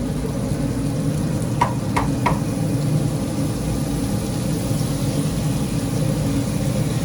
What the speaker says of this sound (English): On the grill right now, nice and crispy.